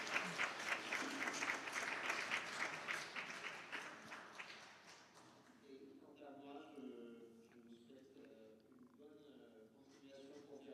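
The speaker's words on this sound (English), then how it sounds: "I think that our panel members deserve a round of applause" Conference audience applauding panel members at the close of a session on European cultural diversity: loud sustained clapping for about five seconds that fades out, followed by a voice speaking.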